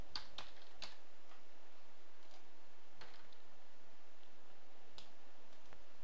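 Someone types a password on a computer keyboard during a Windows installation: a short burst of close, crisp key clicks, a few quick strokes then sparser taps, with no talk.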